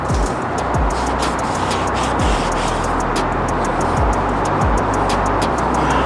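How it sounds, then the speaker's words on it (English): A Dodge Hemi Challenger, apparently the 392 V8, rumbles past outdoors as a steady low engine drone with a few deeper surges, loud and continuous, no voices. "That was a Hemi Challenger."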